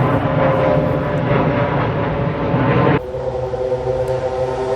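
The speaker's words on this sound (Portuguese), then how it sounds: "pera aí, o avião" An airplane flying overhead a horse yard gives a loud, steady droning engine hum with a tonal whine that drops suddenly in level partway through, heard alone without talk.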